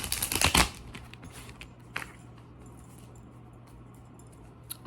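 Tarot cards being shuffled up close, a dense burst of riffling and slapping in the first second, then sparse soft card sounds against quiet room noise and a low steady hum.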